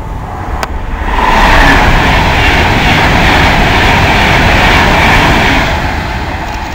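A Pendolino train passes through Nuneaton station as a loud, steady, broad rushing roar that swells in and holds close for several seconds, with a brief click near the start and no talk.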